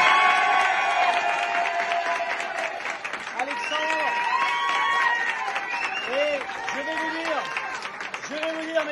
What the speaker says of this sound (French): C'est Alexandre qu'on applaudit.